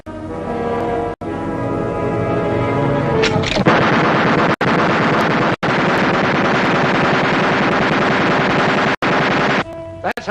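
A machine gun fires in a war film, sustained loud bursts that run for several seconds with short gaps, preceded by a tonal hum at the start.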